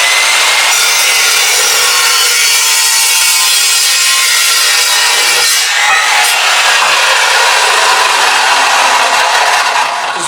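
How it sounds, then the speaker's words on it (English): An Evolution cold-cut metal saw slicing through steel stock for a side-by-side passenger handle, a loud, steady, bright grinding whine running unbroken for about ten seconds with a brief shift in pitch midway. "You've seen this saw before. Evolution metal saw works wonders."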